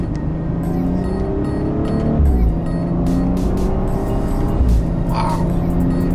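Driving engine of a BMW 435i F32 coupe on an open back road, pulling hard with a steady loud drone and audible breaks where gears shift, plus a couple of low thumps; no talk over it.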